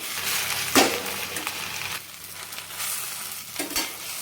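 Gongura leaves fry in a little oil in a pan with a steady close sizzle, interrupted by a few sharp stirring knocks against the pan.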